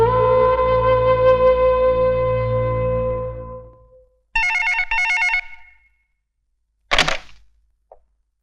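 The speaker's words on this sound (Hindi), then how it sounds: "तुम्हारे लिए भुजंग राव का फोन" A telephone rings loudly and close. A sustained ringing tone with a lingering hum lasts several seconds, then after a pause a short double burst of trilling rings sounds, followed by a sharp thunk that could be the receiver being picked up.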